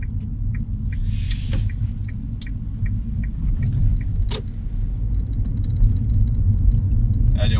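A Toyota Auris petrol hybrid gliding in electric mode gives a steady low road rumble and tyre noise, with faint soft ticks and a brief whoosh partway through, holding an even level throughout.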